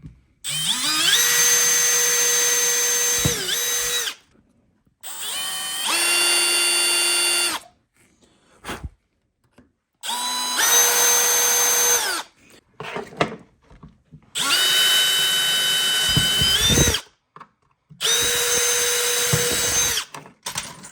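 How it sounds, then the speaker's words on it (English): A power drill whirs in several sustained bursts of a few seconds each, drilling holes to install a MotorGuide trolling motor on a kayak, with short quiet pauses between, close and loud. "when I go to drill my other holes"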